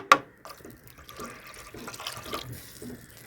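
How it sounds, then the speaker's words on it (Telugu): Water is poured into a pot of oats in short, soft gurgling splashes after a single clink at the start. "ఇంకొన్ని నీళ్ళు అయితే వేస్తాను"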